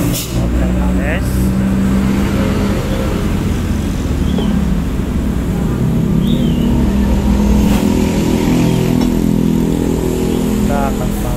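A Yamaha Aerox scooter fitted with an RKS aftermarket exhaust runs steadily close by, its engine note loud and continuous, with people talking over it.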